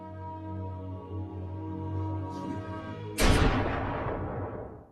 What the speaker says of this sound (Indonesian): Samidi justru menembak dirinya sendiri